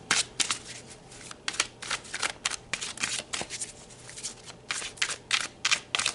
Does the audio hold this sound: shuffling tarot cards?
yes